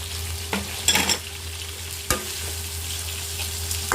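Whole cumin seeds and salt frying in oil beside fish curry, a steady hot sizzle with occasional stirring clatters and scrapes against the pan, close and without talk.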